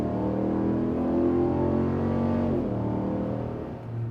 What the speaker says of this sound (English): It sounds phenomenal right at cold start, as well as when you get on the throttle.